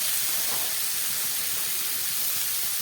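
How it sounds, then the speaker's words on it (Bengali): Onion, ginger, beetroot, potato and beans fry together in a pan, giving a steady, close broadband hiss like a constant sizzle that never lets up, with no voices. "পেঁয়াজ, আদা আর বিট, আলু আর বিনস এগুলোকে একটু ভালো করে ভেজে নিলাম।"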